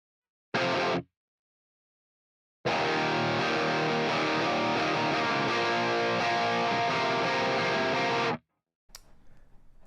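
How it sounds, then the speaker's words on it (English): Distorted electric guitar stabbing the chords of a song's progression, a short burst followed by a pause and then a long run of dense, driving strummed chords that stops abruptly, with a faint scrape afterward. "you're sort of just like stabbing the chords like this"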